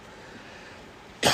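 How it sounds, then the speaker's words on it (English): A person coughs once, loud and close, in a short burst at the very end after a stretch of quiet room tone. "The coughing is really enough."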